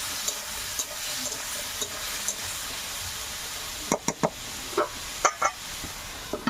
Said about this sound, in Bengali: উপর থেকে লবণ দিয়ে দেবো, হলুদ দিয়ে দেবো, দিয়ে একটু নাড়াচাড়া করে নেব।